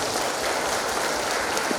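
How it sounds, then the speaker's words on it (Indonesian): Audience applause for students at a Halal Bi Halal gathering of an Islamic boarding school, a steady, dense patter of many hands clapping continuously throughout, with no voices over it. "Tepuk tangan dulu buat anak-anak kita."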